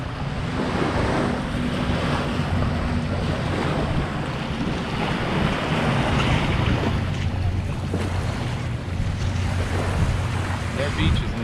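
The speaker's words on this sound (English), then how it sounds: "This is the beach for the condo people." Steady surf and wind on a beach in Cancun, Mexico, a continuous loud wash of waves with buffeting microphone wind noise throughout and no distinct breaks.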